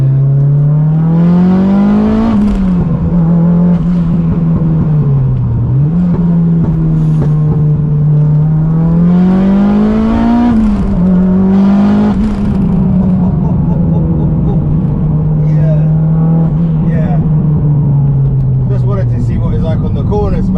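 A 630 bhp turbocharged Mitsubishi Evo 9 accelerating in second gear, its engine note loud and close, climbing and dropping in pitch through repeated pulls with turbo whoosh and a voice mixed in.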